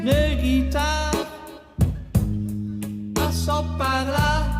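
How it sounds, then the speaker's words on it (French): Guitar playing a tune in a full, dense mix with strong low end, chords and sustained notes shifting in several sections, loud and close throughout. "C'est le son d'une guitare"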